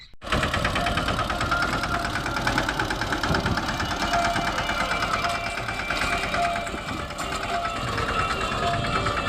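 A tractor engine runs steadily and loudly close by on a farm field being prepared for harrowing, with a constant rattling, knocking drone and no pauses.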